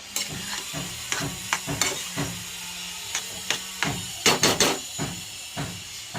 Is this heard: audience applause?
no